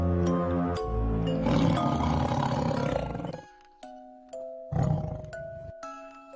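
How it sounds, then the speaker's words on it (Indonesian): A deep, rough roar rumbles in two heavy bursts, with bright chiming tones ringing between and after them. "Tiba-tiba ada suara geraman harimau."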